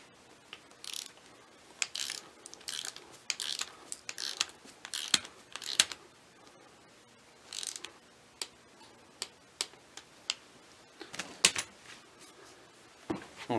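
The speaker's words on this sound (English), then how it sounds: "I'm going to torque it to 13 foot-pounds" Torque wrench clicking and ratcheting while bolts are tightened on a Toyota Celica Alltrac GT-Four ST185 transfer case, with sharp mechanical clicks and ratchet ticks scattered unevenly throughout, close and fairly quiet, no talking.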